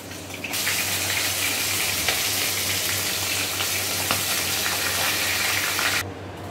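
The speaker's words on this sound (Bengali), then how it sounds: "বাকি যে কয়েক টুকরো মাছ আছে সেগুলো আমরা তেলে ছেড়ে দেব।" Fish pieces dropped into hot oil fry with a loud, dense sizzle that starts abruptly, holds steady for several seconds close to the pan, then cuts off, with no talk.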